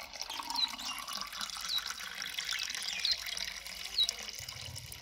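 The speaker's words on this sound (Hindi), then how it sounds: "पानी डालो," Water poured to fill a container, a steady mid-level splashing flow running throughout with a few brief drip-like chirps on top, no talking.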